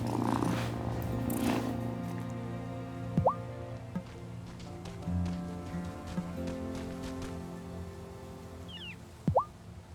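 A cat purring in the video game Wylde Flowers, a soft low purr under quiet game ambience, with a few drip-like plops and chirpy blips scattered through.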